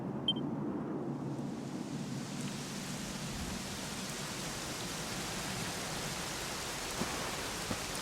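Steady rain falls in the video game Dragon Quest XI, a dense, even hiss that runs unbroken and fairly loud through the whole scene with no voices over it.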